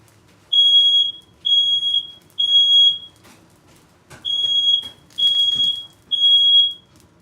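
A smoke alarm sounds nearby, loud and shrill, in six evenly spaced bursts of rapid high chirping beeps separated by short silences, with faint room noise underneath.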